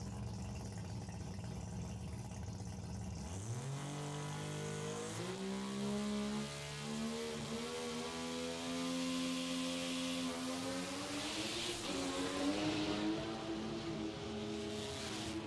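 A 20B rotary-engined drag car makes a pass down the drag strip at a Billet Boss event: a loud rising engine howl climbs through the gears over about fifteen seconds, with a harsh buzzing tone and a brief dip near the end.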